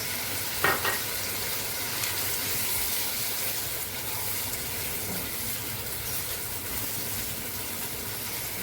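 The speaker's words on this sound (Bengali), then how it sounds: "এবার আদা বাটা আর টমেটো বাটাটা দিয়ে দিচ্ছি" Ginger paste and tomato paste sizzle and fry in a hot pan, a steady broad crackle running the whole time with a brief clatter near the start, no voices.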